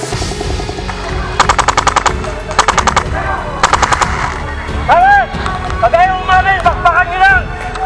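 Polarstar AK12 airsoft rifles firing during a three-way airsoft battle at an outdoor camp, several rapid full-auto bursts in quick succession, close and loud, with players shouting and talking around the shots.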